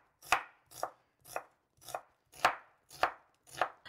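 A knife thinly slices half an onion on a board for South Indian egg fried rice: seven crisp, evenly spaced cuts, close and clear, with no talking.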